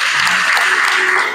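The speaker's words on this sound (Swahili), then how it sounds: "Na makofi tena mengi" An audience at a signing ceremony between CRDB Bank and COSTECH claps in sustained applause, a dense, loud wash of many hands.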